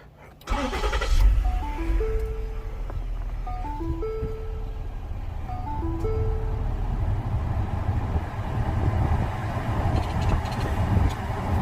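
A Lincoln 5.0 engine cranks and catches, then settles into a steady idle that runs on, with a short chiming tone sequence sounding near the start.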